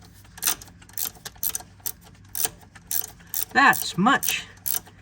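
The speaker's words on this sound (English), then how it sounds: "Might be good with a little ratchet wrench." Ratchet wrench clicking as it turns a nylock nut while replacing the shifter cable on a Can-Am BRP Defender Limited HD10, a series of close, sharp bursts of ratcheting with short gaps, plus a brief spoken remark.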